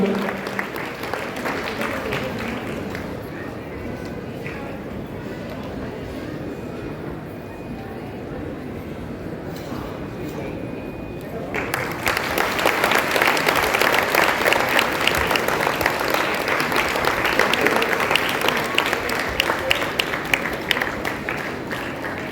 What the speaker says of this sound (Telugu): వారికి మరొకసారి గట్టిగా చప్పట్లు కొడుతూ